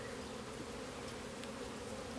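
Honey bees swarming around an opened beehive with two supers on, during an early honey flow in Missouri: a dense, steady buzzing hum, continuous and fairly faint, with occasional individual bees passing close by.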